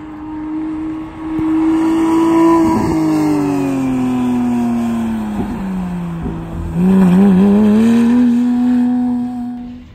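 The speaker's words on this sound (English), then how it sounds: "These cars are taking it easy now that it's raining." Porsche 911 GTS engines hum and rise in pitch as they accelerate and shift through an autocross course in the rain, a steady motor drone rising and falling, fairly close.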